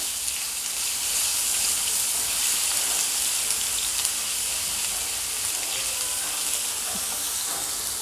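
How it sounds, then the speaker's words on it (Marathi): Ginger-garlic paste roasting in a pan with stuffed brinjal for a Vidarbha-style bharli vangi, giving a steady, even sizzle of frying that runs unbroken and fairly close throughout, with no talking. "टाकणार एक चमचा अद्रक लसण पेस्ट याला चांगलं आणि भाजून घेऊया सगळ्यासोबत"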